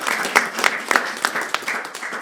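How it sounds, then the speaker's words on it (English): An audience gives a short round of applause, a brief burst of scattered hand claps that rises and fades within a couple of seconds, with no talking over it. "Can you give him a round of applause?"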